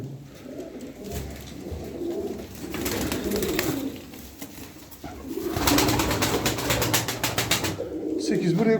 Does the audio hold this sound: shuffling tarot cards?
no